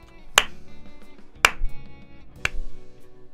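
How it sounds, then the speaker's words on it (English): Slow clapping in the AI: The Somnium Files video game, three sharp, isolated claps spaced about a second apart, close and crisp over a quiet music background. "Why are you slow clapping?"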